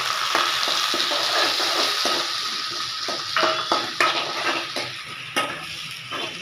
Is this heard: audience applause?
no